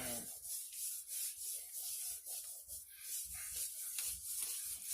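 Seasoning being rubbed by hand into a large piece of fish for smoking, a steady soft scraping and rubbing texture with repeated strokes, close and continuous, no talking.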